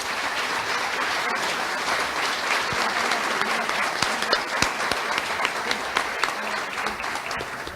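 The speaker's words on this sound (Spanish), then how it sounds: "para quien pedimos nuevamente un caluroso aplauso" Sustained audience applause fills a conference hall after a bioethics lecture at a constitutional court, steady and dense throughout with a few sharper claps standing out near the end.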